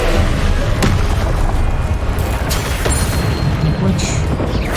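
A fiery Incendio spell blast in Hogwarts Legacy, a loud booming whoosh of fire with dense rumbling bursts, a voice speaking over the effects.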